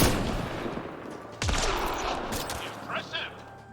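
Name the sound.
gunfire from weapons in Mass Effect Andromeda video game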